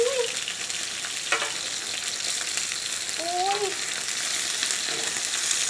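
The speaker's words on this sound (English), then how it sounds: "It's not deep frying, it's just pan fry." Steady, loud sizzling of mushroom slider patties pan-frying in oil, close and continuous, with a brief faint voice-like sound passing under the hiss.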